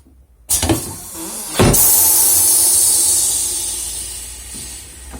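A Facom U200 tyre changer working a scooter tyre off its rim gives a sharp clack, then a loud sustained pneumatic hiss that slowly fades, with a low mechanical rumble underneath.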